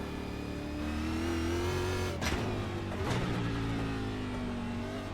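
A modern NASCAR Cup car engine in the iRacing sim drones steadily at high revs, with two brief sharp shifts or surges midway, loud and close throughout with no talk.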